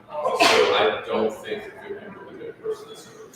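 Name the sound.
sneeze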